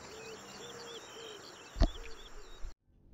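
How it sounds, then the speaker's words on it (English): Birds call and coo in a rainforest canopy during an Age of Empires II cutscene, their repeated calls over a soft ambient bed, broken by a sudden loud burst before everything cuts to silence. "Birds in the rainforest canopy took to the sky, eager to be away from the violence that was to come."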